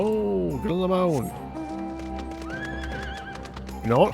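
A video game horse whinnies loudly twice in quick succession, followed by hoofbeats clopping along, then another whinny begins at the end.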